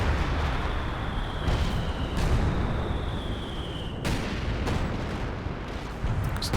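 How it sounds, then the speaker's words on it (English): Base artillery barrage in Company of Heroes 2, a sustained rumble of distant shell impacts and booms with several sharper bursts standing out over a noisy battlefield backdrop. "So there's some base artillery being called in to stop the push onto the pit."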